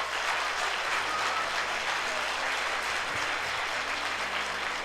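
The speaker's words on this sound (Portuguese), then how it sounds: "pode aplaudir o Senhor" A Sunday worship congregation applauds in church, steady dense clapping filling the room at an even level throughout, with no voices rising above it.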